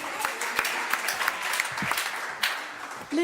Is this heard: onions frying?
no